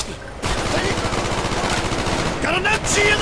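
Sustained automatic gunfire in the video game Call of Duty Black Ops, dense rapid bursts filling the whole stretch with barely a break, loud and close, with game voices shouting over the shooting.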